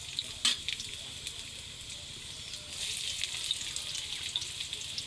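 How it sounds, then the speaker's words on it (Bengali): Garlic sizzles steadily in hot oil in a home kitchen pan as it is stirred, a continuous close crackling hiss with a few sharper clinks of the spoon. "তেল দেওয়ার পরে এখন একটু রসুন দিব, রসুনটা একটু নাড়াচাড়া করে নিব আগে।"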